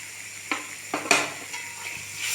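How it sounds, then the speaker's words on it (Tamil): Roasted okra tipped into cooked masala in a pan brings a few sharp clatters and scrapes of a spoon against the pan over a soft sizzle, with the clatters spaced apart. "இப்போ இதில் நம்ம ஆல்ரெடி ரோஸ்ட் பண்ணி வச்சுருந்தா வெண்டைக்காய் போட்டுடலாம்"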